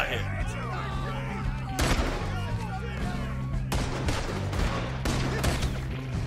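Gunfire in the video game Red Dead Redemption 2 during a river boat robbery, with several loud sharp shots spaced across a busy mix of game sounds and background voices.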